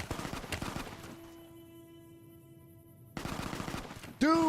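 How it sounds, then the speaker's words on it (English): Gunfire in Fallout: New Vegas comes in rapid bursts of shots, pauses behind a steady tonal hum, then resumes, followed by a sharp rising game sound at the very end. "Are they shooting me?"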